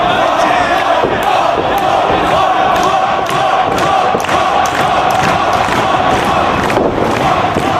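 An arena wrestling crowd at a Samoa Joe versus CM Punk match roars and cheers continuously, a dense, loud wall of voices with chanting surges and occasional thuds.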